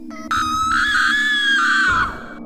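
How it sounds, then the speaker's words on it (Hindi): A woman lets out a loud, shrill, sustained scream for about two seconds, sounding alone and close, as a sound effect in a horror story. "सामने का मंजर देखते ही वो इतना जोर से चिल्लाई"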